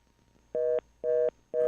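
A telephone line tone left after a dropped call on a radio call-in show: steady, evenly pulsed beeps, three bursts about a quarter second each with equal gaps, clear and alone.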